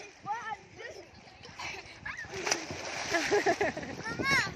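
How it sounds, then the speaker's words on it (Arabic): People flipping and splashing in a club swimming pool, with scattered splashes and sloshing water mixed into steady chatter, voices of children and adults talking over the water throughout. "بيعملوا شقلباز جوه الميه"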